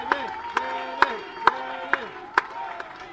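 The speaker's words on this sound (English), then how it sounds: "Please give a huge round of applause to him and all our volunteers." Rhythmic chants and cheers from a crowd at a European Champions Cup baseball game, with about seven regular beats marking the chant, fairly loud and steady.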